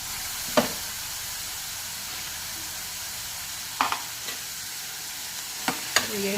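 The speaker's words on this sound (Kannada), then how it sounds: "ಎಣ್ಣೆಯಲ್ಲಿ ಫ್ರೈ ಮಾಡಿ ಒಂದು ಸ್ವಲ್ಪ ಹೊತ್ತು." Fresh field beans frying in hot oil in a pan make a loud, continuous sizzling hiss up close, broken by a few sharp pops and spatula taps against the pan.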